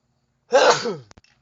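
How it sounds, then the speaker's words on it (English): A single close sneeze bursts out in a workshop during an ATV engine rebuild, with a sharp breathy onset that trails off, followed by a couple of faint clicks. "I gotta sneeze."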